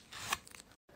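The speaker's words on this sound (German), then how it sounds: "der Künstler, der es liebt, dieses Klebeband vom Papier abzuziehen" Adhesive tape is peeled off paper in a quick rasping rip lasting under a second, close and fairly loud, followed by a brief silence and a faint rustle.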